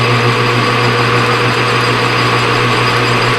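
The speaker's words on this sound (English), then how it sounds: "We're going to flip this end around and face it, and then we'll do all the boring and everything on the lathe on this one." A metal lathe facing the end of a part for a shop-made fence corner, producing a loud, steady whining hum with a constant tonal drone and gritty cutting texture, close by and without talk.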